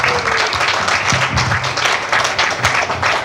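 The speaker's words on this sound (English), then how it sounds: "Please give her a round of applause." Sustained applause from an audience at a Tamil and Maori community event in Wellington, many hands clapping steadily at an even level for the whole stretch.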